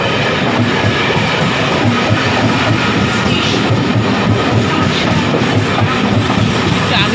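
A train arriving at a station, a loud continuous rumble with rhythmic wheel clatter close by, steady throughout, with faint background voices.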